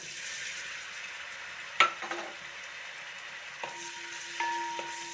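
Soft sizzle of potato pieces frying in hot coconut oil fills the background while a few utensil clinks and a stirring scrape sound close by, with no one speaking.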